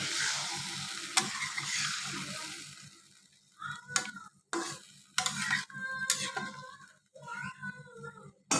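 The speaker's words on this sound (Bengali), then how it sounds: "ভাজা মাছে মশলাটা ভালোভাবে কষায় নিতে হয়" Fried pangasius fish being stirred in spice paste in a pan for a bhuna, with a hiss of sizzling and scraping stirs close by. A cat meows repeatedly in the background.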